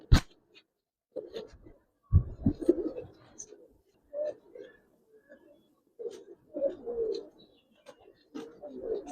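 Giribaz pigeons cooing at close range, a run of soft, low throaty coos in irregular bursts with short pauses between, plus a sharp knock at the start.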